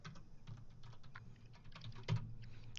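A password is tapped out on a computer keyboard in soft, quick, close keystrokes, with a low hum underneath and no voices.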